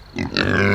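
Pigs on a small homestead farm grunt and squeal close by, with a rising chorus of loud, overlapping calls and no talk.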